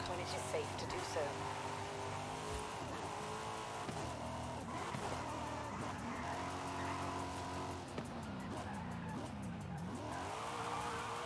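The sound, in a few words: car drifting with tire squeal in the Forza Horizon 5 video game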